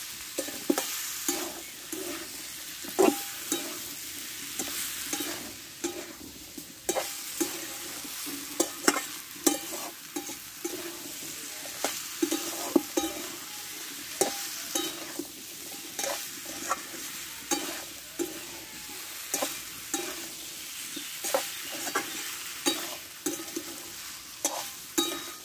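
Pumpkin pieces with a spoonful of sugar are stir-fried in a pan, a soft sizzle broken by regular sharp scrapes and clacks of the spatula against the pan for the whole stretch.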